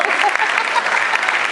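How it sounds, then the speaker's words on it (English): A conference audience bursts into brisk, loud applause, dense clapping filling a short span with faint voices mixed in. "Let's clap it up for these 11 holdouts."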